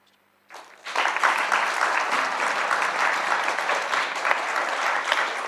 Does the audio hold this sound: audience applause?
yes